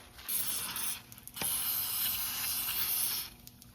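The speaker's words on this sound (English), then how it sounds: "I'm going to spray some penetrating oil on them" Penetrating oil sprays from an aerosol can onto rusty rear suspension springs of a 2013 Chrysler 300, two close, loud hissing bursts, a short one and then a longer one, with a brief pause between.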